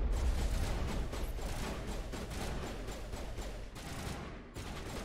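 Rapid, dense gunfire bursts from the video game Mass Effect 1: Legendary Edition, a continuous fusillade heard fairly faint and steady throughout.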